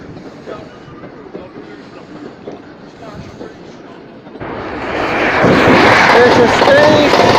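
An HST train slows to a stop at Doncaster station, the rumble swelling louder in the second half after a quieter stretch of station ambience, with faint squeals over the rolling noise.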